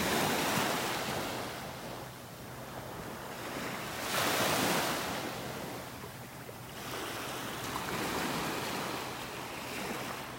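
Ocean surf rolls onto a beach in North Naples, Florida, a steady broadband wash that swells in louder breaking surges around the middle and again later, with wind rumbling across the microphone and no talk.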